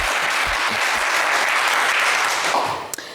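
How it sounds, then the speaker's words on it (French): Loud, sustained studio audience applause on a French television game show, a dense wash of clapping that holds steady before tapering off near the end. "On vous applaudit également très fort"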